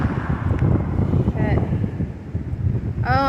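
Strong storm wind gusting steadily across the microphone outdoors beside a blooming tree, a loud continuous roar with brief whistling tones near the end.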